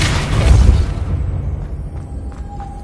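Depulso spell cast in Hogwarts Legacy: a loud, booming blast that swells over the first second and then decays into a lingering rumble, followed by faint chimes and a thin ringing tone.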